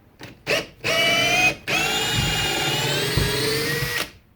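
A Makita XFD11 sub-compact cordless drill driver whirs in short bursts, then runs at high speed for a few seconds backing out a lag screw, its motor whining steadily before stopping.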